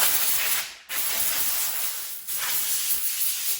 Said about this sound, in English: If you have an air compressor, this really makes fast work of things.